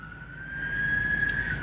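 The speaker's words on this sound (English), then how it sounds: "I hear another set of sirens coming this way." A single emergency vehicle siren drawing nearer, its steady wail rising slightly in pitch against a low traffic rumble, fairly distant and faint with no voices.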